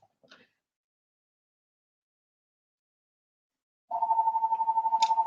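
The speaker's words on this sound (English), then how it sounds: "If that home phone rings much more, I'm gonna get up and go stop it." After a long silence, a home landline telephone starts a steady electronic ring, pulsing rapidly and continuously at close range in a quiet room.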